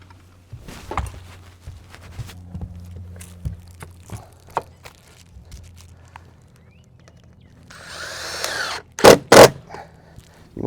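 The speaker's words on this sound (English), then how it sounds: "You want to drive these screws in pretty good too, because you don't want them to put any impressions on the panel" Screws driven into metal rake flashing trim on a double lock standing seam roof, heard as scattered short clicks and taps with a louder burst of power driver whirring near the end, close and fairly quiet.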